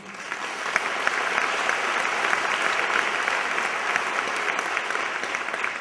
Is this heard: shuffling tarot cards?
no